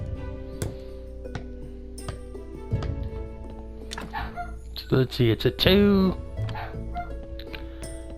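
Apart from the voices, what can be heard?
dogs barking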